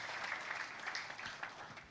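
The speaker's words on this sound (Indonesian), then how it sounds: "Kita berikan tepuk tangan yang kuat buat Tuhan kita yang baik." A church congregation claps during a sermon, steady soft applause heard from a distance with no speech.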